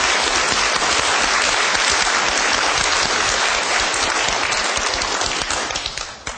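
Dense, loud applause from a studio audience on a Korean talk program, continuous clapping throughout that thins and fades near the end.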